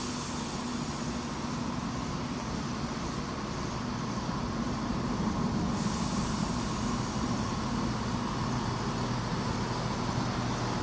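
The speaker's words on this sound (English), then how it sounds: "This will be my train back to Melton Mowbray." Class 170 diesel multiple unit 170101 at Stansted Airport station, a steady engine drone and rumble with a high hiss rising partway through, heard from the platform without talk.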